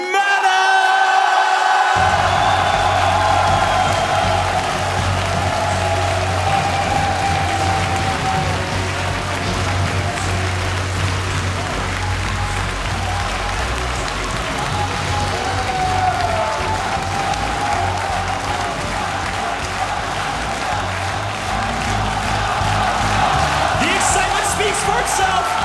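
Large home crowd at a StarCraft 2 WCS Premier League quarterfinal in Poland, roaring, whooping and applauding continuously and loudly for about twenty-five seconds, with a swell at the end.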